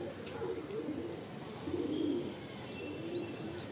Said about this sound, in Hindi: ये देखो सारे खूब बढ़िया से उड़ रहे हैं।